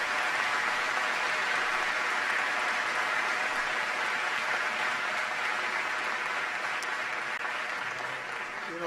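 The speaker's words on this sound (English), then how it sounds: "Please give Celeste a big round of applause." Sustained applause from a large youth audience at a Florida event, steady and dense throughout with no break, loud and fairly close.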